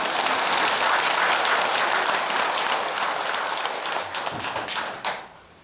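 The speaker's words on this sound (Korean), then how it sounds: "그러면 다 좋다는 이한테 박수 한번 보내줘" An audience at a Buddhist dharma talk claps in a full, loud burst that thins out into a few scattered claps and then stops abruptly.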